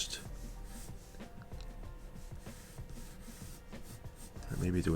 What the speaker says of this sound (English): I'm just drawing the beard in to give myself a guide